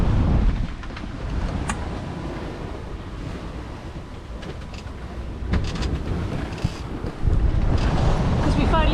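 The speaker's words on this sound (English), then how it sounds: "It's a bit bangy crashy up into the waves." Sailboat on an Atlantic crossing slamming into two-metre swells in wind, with loud broadband wind buffeting and surf wash, occasional heavier crashing thumps, and no talk.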